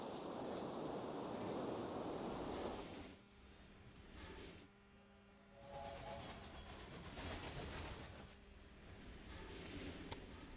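Railway Empire train rumbling along the tracks, a steady, faint running noise with a soft clickety-clack that dips briefly in the middle before rising again.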